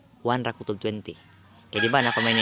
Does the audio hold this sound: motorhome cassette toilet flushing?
no